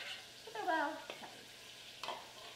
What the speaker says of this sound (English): I like to then toss it in a bowl. And I'll throw my veggies in and mix it all up.